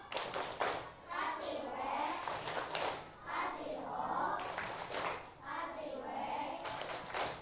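A group of children claps together in a rhythmic pattern, with bursts of fast claps alternating with their chanting voices.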